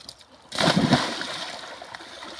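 A person plunges into shallow water with one sudden splash, followed by fading slosh and trickle that settles into quiet watery movement.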